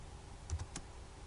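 A few keys tapped on a computer keyboard while entering a spreadsheet formula, three or four quiet clicks in quick succession against a faint background hum.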